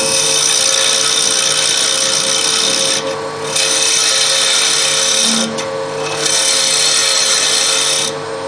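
Wood lathe spinning a wooden finial while a tool turns a bead, a steady loud whine and scraping rasp that briefly drops away twice as the tool lifts off the wood.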